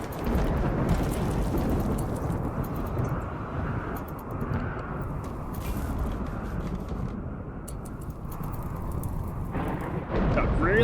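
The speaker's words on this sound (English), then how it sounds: "Got really stormy." Thunderstorm in the video game RimWorld: a loud, steady wash of heavy rain and rumbling thunder fills the whole stretch, with a sharper crack rising near the end.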